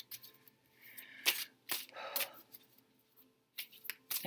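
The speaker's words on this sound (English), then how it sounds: "I feel rushed to shuffle." Tarot cards being shuffled, with a few quick riffling bursts and crisp snaps of cards in between, close and fairly quiet with gaps of near silence.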